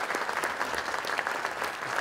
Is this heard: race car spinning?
no